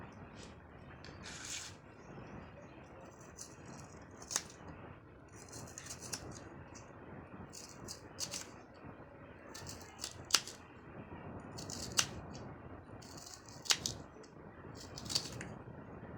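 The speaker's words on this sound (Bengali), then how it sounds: "এবার আমি এগুলোকে গোল গোল করে কেটে নেব" A knife cuts star fruit into round slices, making quiet, sharp cutting clicks at irregular intervals over a soft background hush.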